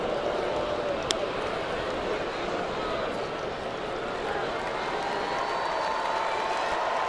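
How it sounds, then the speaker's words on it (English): Baseball stadium crowd noise during an Angels at Indians game in Cleveland, a broad continuous roar of cheering and clapping from a large distant crowd, with a commentator's voice over it. "this crowd trying to make some noise for Andrew Miller"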